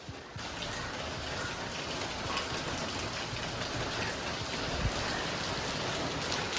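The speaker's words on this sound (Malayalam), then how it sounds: "നല്ല മഴയാണ്." Heavy rain falls outside in a steady, even hiss of drops that carries on without pause at moderate loudness, and no one speaks.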